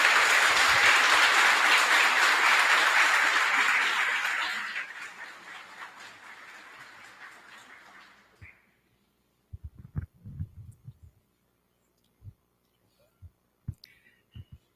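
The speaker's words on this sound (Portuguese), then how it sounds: "vamos receber com um carinhoso abraço e salva de palmas nosso irmão Antônio Demarque." Audience applause at a Spiritist group lecture, a dense steady clapping that fades out over several seconds, followed by a few scattered claps and small sounds in near quiet.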